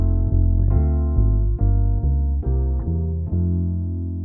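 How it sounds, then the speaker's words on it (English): Jazz blues turnaround played as a 1-6-2-5 chord progression: four sustained chords in steady succession, clean and moderately loud with no voices. "Variation 1 is a 1, 6, 2, 5, which sounds like this."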